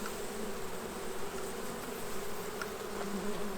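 Close, steady humming of many honeybees from an opened hive of eight to nine frames, a continuous even drone without speech.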